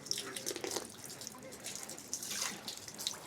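Water trickling and dripping at a purification basin of a shrine in Osaka, soft and fairly faint, with irregular splashes and distant crowd murmur behind.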